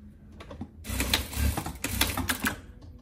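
A sewing machine stitches the collar of a mock vest with a danton lapel, starting after a quiet moment and running in rapid, clattering bursts up close.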